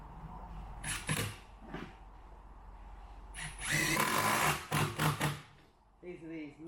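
Drill driving Wirox Spax 87mm structural screws into timber in a few short, loud bursts of whirring and grinding, separated by quieter pauses and clatter.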